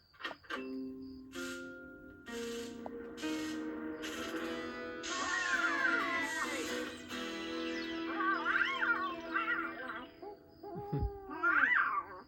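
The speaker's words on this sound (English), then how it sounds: "That was a lesser spotted barn owl." A barn owl hoots in a Bob the Builder cartoon, heard softly among chiming, bell-like tones and swooping musical effects, with no voices.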